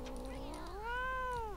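A cat in the video game Postal 2 lets out a single drawn-out meow that rises and then falls in pitch, clear and fairly close, with nobody speaking over it.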